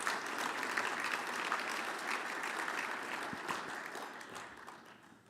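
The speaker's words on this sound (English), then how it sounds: "let's give a round of applause for the Vancouver Island Conference Center" Conference dinner crowd applauding the venue, the Vancouver Island Conference Center: a full, dense round of clapping from many hands at a steady level, slowly tapering off near the end.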